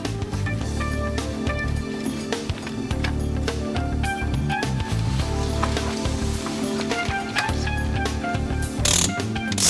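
Ratchet wrench tightens the crankshaft pulley screw on a Peugeot DV4TD diesel engine, a rapid run of clicking pawl ticks and metallic clatter repeating steadily at close range.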